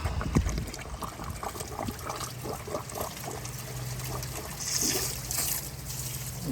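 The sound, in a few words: water running from hose into radiator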